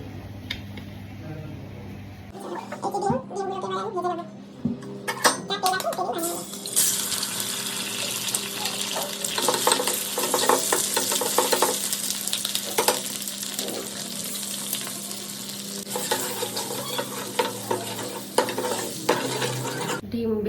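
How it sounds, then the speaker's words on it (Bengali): An egg fries in hot oil in a pan. After a few seconds of clinks and a brief voice, a loud, steady sizzle and spatter builds up and holds, with occasional utensil taps. "তার আগে হচ্ছে তোমার ডিমটাকে ভেজে নিই"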